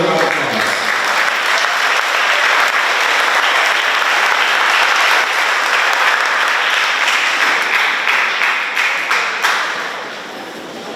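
A crowd at an education week event applauds to welcome the governor's chief of staff, sustained dense clapping that holds strong for about ten seconds before tapering off slightly.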